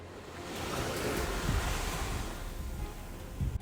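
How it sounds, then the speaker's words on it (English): Ocean surf rolls in with a broad continuous wash of breaking waves, mixed with wind buffeting the microphone and occasional low thumps. "the sound of the ocean comes before you actually see the ocean"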